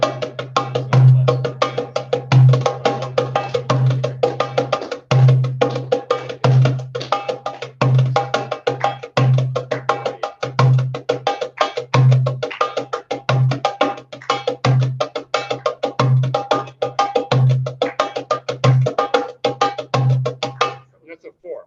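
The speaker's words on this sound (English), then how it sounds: "a very common rhythm that's used in the Arabic countries a lot too" A hand drum plays a common Arabic rhythm, a steady, repeating pattern of deep bass strokes and crisp higher taps, alone and evenly paced.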